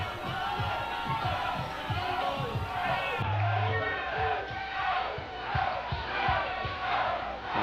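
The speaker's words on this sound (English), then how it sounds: "Fans in attendance cheering" A baseball crowd at a college game cheers and chants steadily while a play is under umpire review, a dense, continuous roar of voices with rhythmic shouts rising and falling.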